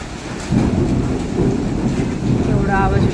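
A dense, roaring wash of rain drums steadily, loud and close, with a low rumble underneath and a brief faint voice near the end.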